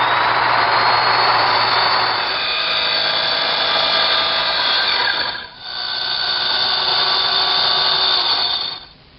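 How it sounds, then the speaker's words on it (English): A small circular saw cuts the plywood floor of a doll house model with a loud, steady high whine, dipping briefly partway through and then resuming until the cut ends. "I'm going to use a small circular saw and a square to help guide me to make the crosscuts."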